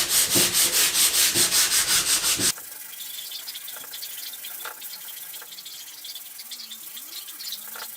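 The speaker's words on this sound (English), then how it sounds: "I'm going to lightly rub down the scratches using 400 grit sandpaper." Rhythmic back-and-forth strokes of 400 grit sandpaper lightly rubbing scratches on a plastic car dashboard panel, loud and close for about two and a half seconds, then much fainter scattered scuffs and small handling noises.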